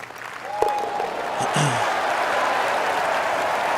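Crowd in the golf video game EA Sports Rory McIlroy PGA Tour breaks into sustained cheering and applause, a steady dense roar that swells and holds, with a brief voice near the start.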